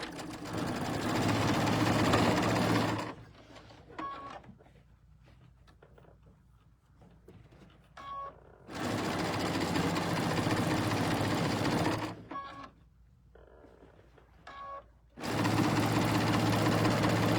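A sewing machine hums and stitches loudly in three long steady runs, finishing the last seam of a quilt block, separated by quieter pauses with faint handling noises.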